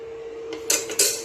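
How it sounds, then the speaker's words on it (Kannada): A pressure cooker is set down on a home kitchen stove, giving two quick metallic clanks over a steady low hum. "ಇಲ್ಲಿ ಇವಾಗ ಕುಕ್ಕರ್ ಇಟ್ಟಿದ್ದೀನಿ"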